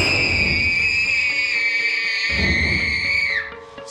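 A person screams loudly and continuously, a sustained high-pitched shriek held for several seconds before cutting off abruptly near the end.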